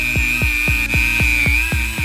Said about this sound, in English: Then we're gonna go through with the Dremel and see just how good looking we can get these.